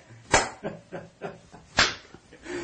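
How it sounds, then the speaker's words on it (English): Several sharp hand claps ring out irregularly, about six in all, one or two louder than the rest, fairly close with a bit of room echo. "Could you do one of these hand clap things?"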